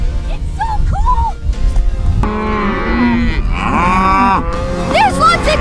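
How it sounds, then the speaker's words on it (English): Cows moo repeatedly in Kaysville, loud and close, with several long, deep, drawn-out calls overlapping one another over a rough, noisy outdoor background. "There's lots of cows in Kaysville!"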